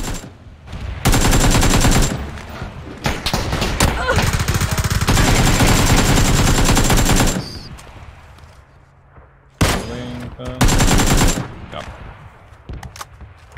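Video game gunfire in a battle royale match: loud, dense bursts of rapid automatic fire, a long sustained volley followed by a shorter pair of bursts, with quieter gaps between them.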